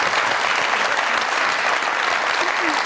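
A studio audience at a comedy talk show applauds loudly to welcome a guest, a thick continuous wash of clapping filling the whole stretch without pause.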